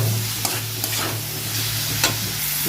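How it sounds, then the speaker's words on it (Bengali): Hog plums stir-fried with mustard seeds and dried chilli in hot oil, a close, steady sizzle broken by a few sharp stirring clicks, with no voices. "আমি এর মধ্যে আমড়াগুলো দিয়ে দেবো, লবণ দিয়ে দেবো, হলুদ দিয়ে দেবো, ভালো করে নেড়ে চেড়ে ভেজে নেবো।"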